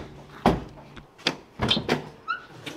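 A newly fitted door latch on a 1957 Chevy being closed, a series of several solid clunks and latch clicks spaced about a second apart, close by, with a faint squeak among them and no speech.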